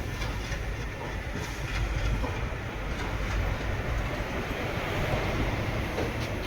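Diesel locomotive hauling the Chennai Egmore Express from Mangalore Central to Tambaram, a steady loud rumble of rolling wheels and train noise with faint rhythmic clatter, heard continuously from on board.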